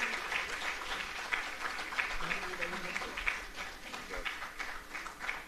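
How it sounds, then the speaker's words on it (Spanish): A lecture audience applauds the speaker at the close of a talk on feminist decolonial economics, a sustained patter of clapping hands with voices mixed in underneath. "Le damos las gracias y un aplauso muy fuerte, ¿verdad?"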